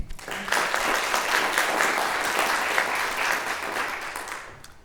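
An audience claps in welcome for a scientist at a conference, a dense, steady round of applause that swells quickly and fades out toward the end.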